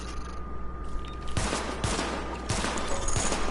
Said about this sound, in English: Open fire on the highlighted targets